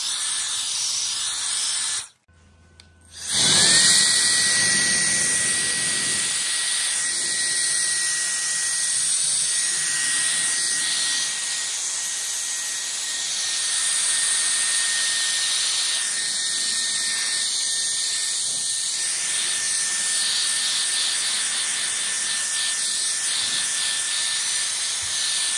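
A WOLFBOX MF100 electric air duster runs at full blast and blows leaves, giving a loud, steady, high-pitched hiss with a whine. It starts abruptly after a brief click and a short pause, then holds for over twenty seconds.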